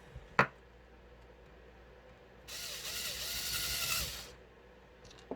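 Metal lock nuts with nylon rings being fitted onto the rear swaybar of an MST MTX-1 RC car, heard as a sharp click followed by a couple of seconds of brisk ratcheting and threading noise, close and moderately loud with no talk.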